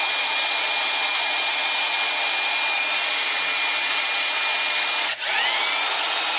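A DeWalt electric impact gun runs continuously to bed in new motor brushes, a loud, steady, buzzing motor whine that cuts out briefly near the end and restarts.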